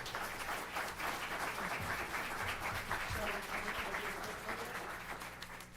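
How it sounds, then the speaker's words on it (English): Audience applause fills a council meeting room, steady and sustained clapping from a crowd throughout, tapering slightly at the end. "Please give them a round of applause."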